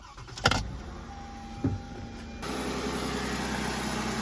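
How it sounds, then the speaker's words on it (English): A car engine idles steadily after a couple of sharp knocks and clunks, with a broadband hum filling the second half. "Engine sounds healthy."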